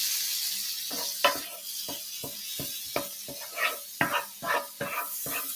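A wooden spoon stirs a flavor packet through a hot skillet, its repeated scraping strokes coming in an uneven rhythm over a soft constant sizzle, close and fairly quiet with no talk.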